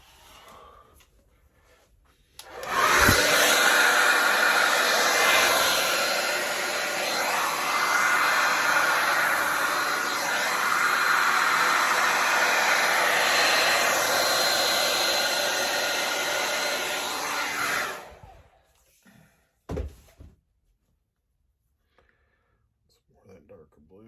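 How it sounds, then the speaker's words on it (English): A hair dryer blows with a loud, steady whoosh for about fifteen seconds, then cuts off, followed by a few soft clicks and near silence. "We're going to get our hair dryer."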